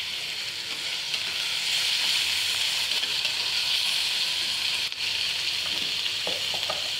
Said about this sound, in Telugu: ఫ్రై చేసుకుంటూ ఉంటే కొంచెంసేపు మనకు ఆ పచ్చి వాసన అంతా పోయి నార్మల్గా బ్రౌనిష్ కలర్ వచ్చే వరకు ఇలా వేయించుకుంటూ ఉండాలి ఆనియన్స్ని